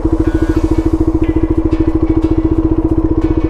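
QJMotor Race 250 motorcycle pulling away in first gear on the clutch at idle, its single-cylinder engine thumping in a loud, even, rapid beat close to the listener.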